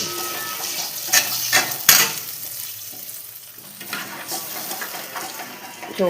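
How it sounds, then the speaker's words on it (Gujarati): Buttermilk is stirred into spice masala in a hot pan, with continuous sizzling and liquid bubbling and several spoon scrapes and knocks against the pan, close by. "આવી રીતે સતત હલાવી રાખવાનું જો આપણે હલાવશું નહીં ને તો છાશ ફાટી જશે"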